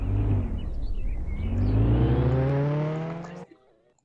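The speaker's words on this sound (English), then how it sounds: "This car is actually really fast." A fast car in a museum-robbery video game revs loudly, its engine pitch climbing steadily over several seconds before cutting off sharply, leaving a brief faint tail.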